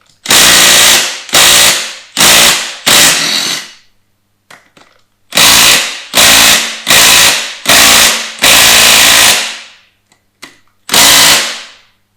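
Impact gun loosening main bearing cap bolts on a Mercedes M113 5-liter V8 during a Ford Capri engine swap: several loud, close bursts of pneumatic hammering, in two clusters of four and five with short gaps, then a final burst.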